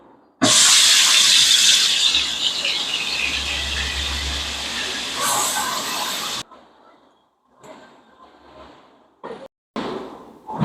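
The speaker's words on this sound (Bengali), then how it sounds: "এবারে চিংড়ি মাছগুলো ভেজে নিই।" Prawns rubbed with salt and turmeric drop into hot oil in a pan, setting off a loud, steady sizzle and hiss that cuts out abruptly, followed by quieter clinks and scattered kitchen sounds.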